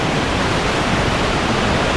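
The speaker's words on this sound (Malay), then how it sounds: "Belakang ni sungai." A river flows behind a campsite at Lata Rambong, giving a dense, steady rush of water like a small waterfall, constant and fairly loud with no other sounds.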